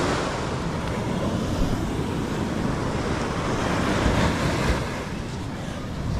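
Sea waves crash and wash ashore in darkness at night, a steady, loud, broadband roar of surf with wind buffeting the microphone throughout and a slight swell near the end.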